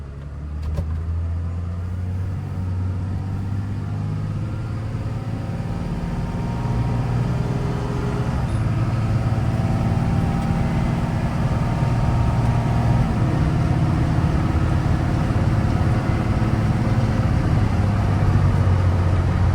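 A Dodge pickup's Cummins 5.9 12-valve diesel engine drones steadily while driving, a deep low rumble that slowly builds in loudness, close and continuous with no speech.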